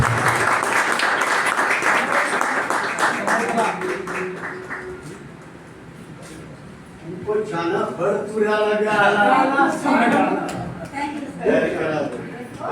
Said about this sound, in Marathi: टाळ्या जोरदार झाल्या पाहिजेत.